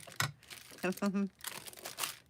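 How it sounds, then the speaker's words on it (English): Crinkly crunching of parchment paper tucked inside handmade sheet music envelopes, a few sharp rustles up close with a voice speaking briefly in the middle. "I'm making sheet music envelopes with parchment paper in the middle so we get the crunchy sound"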